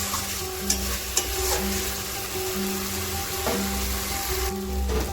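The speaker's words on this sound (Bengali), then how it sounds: "ভালো করে নেড়ে নেব যাতে গ্রেভিটা আলু ও পনিরের মধ্যে ভালো করে ঢুকে যায়" Fried potato and paneer stirred into curry gravy in a pan, with steady sizzling and a few sharp scraping knocks of the spoon over a low hum, close and fairly loud, no speech.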